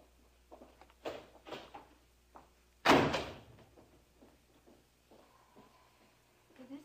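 A door closes with one sharp, loud slam after some quieter footsteps and movement, as a woman is shown out of a room.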